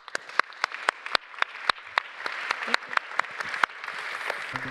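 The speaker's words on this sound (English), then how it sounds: "I think we should thank this learned and interesting panel with a warm" Scattered claps ring out from the audience at the ESS/Max IV Summit 2024 as a scientific panel is thanked. Sharp individual claps come in an uneven rhythm, then thicken toward a fuller round of applause at the close.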